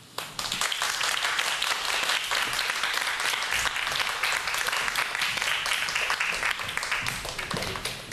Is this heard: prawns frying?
no